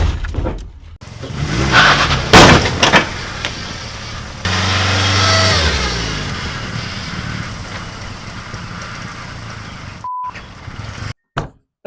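A truck engine runs with a whining power steering pump, rising from knocks and clatter into a steady revving drone with a gliding whine, then cutting off abruptly near the end.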